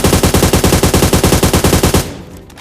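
Rapid automatic gunfire in the PUBG video game, a fast even burst of about twenty loud shots over two seconds, then stopping abruptly.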